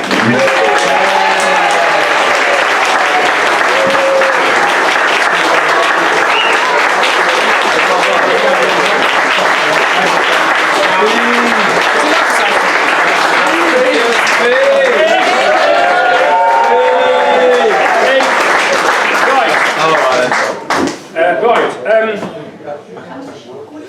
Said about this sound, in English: A big round of applause, please, for Mr. Ian Pease